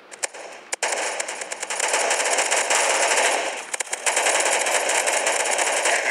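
Rapid automatic gunfire from the mobile shooter game Mask Gun, loud sustained bursts with sharp individual shots at the start and in a cluster near the middle, no voices over it.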